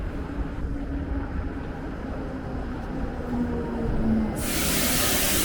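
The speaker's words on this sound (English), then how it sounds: "it's better to take a tram ride to Hervanta" A low, steady rumble of a tram in motion in Tampere, Finland, with rail and wheel noise throughout and a loud hiss of air bursting in near the end.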